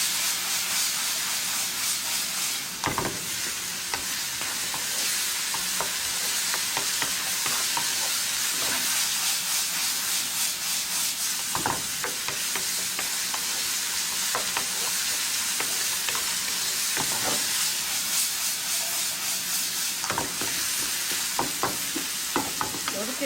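Meat stir-fried dry in a pan for rainbow cup rice makes a continuous sizzle, broken by repeated scraping and clacking strokes from stirring that come at an irregular pace.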